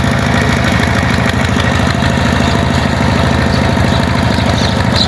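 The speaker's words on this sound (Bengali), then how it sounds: "দেখেন কি সুন্দর করে চষে নিচ্ছে" Tractor engine plowing a dry, ripe field, a steady loud mechanical drone with rhythmic low chugging that holds close and constant throughout, with no talk over it.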